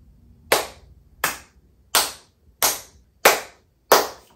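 Six single hand claps in a studio, evenly spaced about 0.7 seconds apart, each sharp and loud with a short decaying tail, and silence between them.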